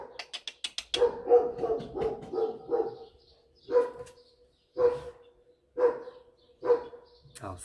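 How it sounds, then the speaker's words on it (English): A dog barks repeatedly nearby, opening with a rapid run of sharp yips and settling into spaced single barks about once a second. "I'll stop this until he stops barking."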